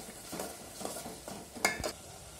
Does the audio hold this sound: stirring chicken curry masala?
yes